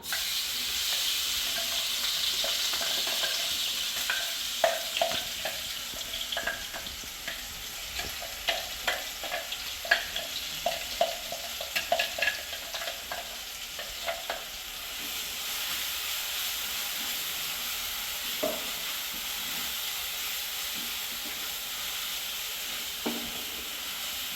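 Crushed garlic, shallots and bird's eye chillies fry in a pan with a steady sizzle and hiss, broken by repeated scraping clicks of stirring through the first half, then settling into continuous frying alone.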